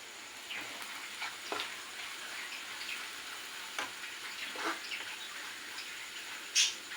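Stuffed bitter gourds frying with chilli powder in a pan, a faint, steady sizzle broken by soft irregular clicks and scrapes of stirring, with one sharper clink near the end.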